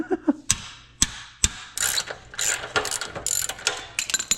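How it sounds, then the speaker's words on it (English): A ratchet wrench with a CRV 3/8 socket clicks as it turns, a few sharp separate clicks followed by a quicker run of ratcheting, close and fairly quiet, while tearing down a Honda CT90. "a CRV 3/8 socket, or a 3/8 crescent wrench"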